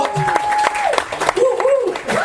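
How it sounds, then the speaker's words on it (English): Wedding guests clap during the reception speeches, scattered sharp claps under cheering and voices that rise and fall, close and lively for a couple of seconds. "Let's give them a clap."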